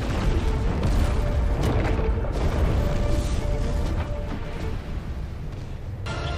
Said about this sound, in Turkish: Şöyle bir patlamamız var